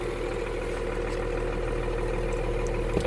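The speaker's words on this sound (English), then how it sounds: "I know it's loud and clattery. It's a 12 valve." A 12-valve diesel truck engine runs loud and clattery nearby, a steady, rough drone with a low, rhythmic knock that holds even throughout.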